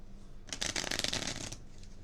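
Player cards for the baseball board game Bat Flip Dynasty riffled in one quick, crisp papery burst lasting about a second, close and quiet with no talking.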